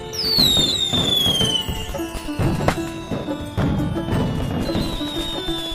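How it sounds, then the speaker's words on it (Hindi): A continuous hissing, crackling spray of a fountain firework (anar) burns steadily in a courtyard, with high whistling tones and scattered pops, loud and close throughout. "अनार जला रहा है ये बच्चा"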